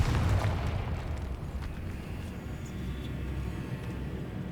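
A Confringo fire spell goes off in Hogwarts Legacy with a loud booming explosion at the start. A rumbling roar follows and fades slowly but stays dense throughout.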